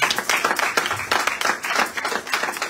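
A church congregation claps loudly in praise, many hands beating together in dense, steady rhythmic bursts that fill the room.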